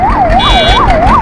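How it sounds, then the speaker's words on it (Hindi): An ambulance siren arrives at a crash beside a petrol pump on SH 55, where a four-wheeled Blazer hit three motorbikes. It wails loud and close in steady, rising and falling cycles. "एम्बुलेंस देखिए आ रही है।"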